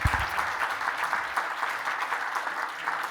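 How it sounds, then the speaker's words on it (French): Applause from a lecture audience after a talk on demographic transition: many hands clap densely and evenly at moderate distance for a few seconds, with no one speaking. "On vous applaudit."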